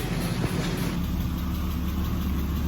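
A BMW E36 with an M50 engine idles steadily while warming up, a close, even low rumble with constant broadband exhaust noise and no revving.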